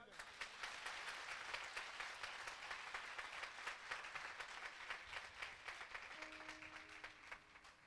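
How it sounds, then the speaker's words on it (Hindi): Audience at a gospel worship event applauds loudly and continuously, dense clapping from a large crowd sustained for several seconds, with a faint tone briefly audible near the end. "जोर से ताली बजाएं।"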